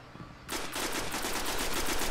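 Rapid automatic gunfire in the online shooter Destiny during a Control match, a dense rattling burst starting suddenly and continuing steadily, loud and close with no talk over it.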